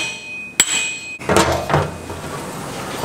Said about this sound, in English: we give this thing a smack and the axle will come right out